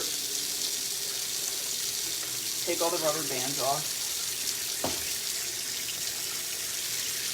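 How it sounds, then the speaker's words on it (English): Tap water runs steadily into a pot in a kitchen sink while escarole soup is being prepared, a continuous bright hiss with a brief clatter midway and a short spoken remark over it. "So, I would just start putting, filling it up with water."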